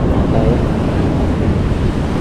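Rough ocean surf at high tide on a drizzly, wavy day, a continuous loud rush of breaking waves close by, filling the whole clip with no pauses and no voices.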